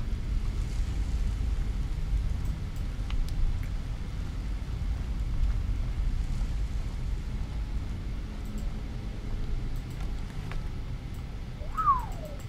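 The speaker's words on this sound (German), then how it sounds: "Folgen diesem Wasserfall, dem kleinen fließenden Bach." A waterfall and a small flowing stream in the video game Skyrim make a steady, low-heavy rushing wash that runs unbroken throughout, with a few faint incidental game sounds on top.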